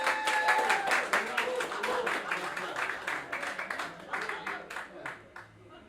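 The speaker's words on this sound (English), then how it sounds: "give her a round of applause" An audience claps warmly for a performer at an open mic session in the Cross Lances, a dense wash of applause that starts strong and gradually thins and fades, with voices murmuring underneath.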